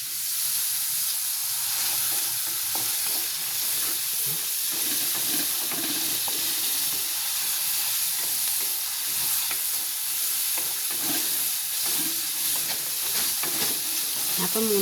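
Green chilies and curry leaves are stirred in a curry pan for a homestyle fish curry, giving a steady close sizzle and hiss of frying with faint scraping of the spoon throughout.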